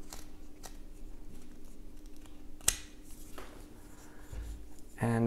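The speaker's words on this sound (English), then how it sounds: "cut across the grain" Whittling knife shaving wood across the grain while carving a small Labrador figure: soft, scratchy, close cuts with one sharper snap, quiet scraping around it and a brief thud at the end.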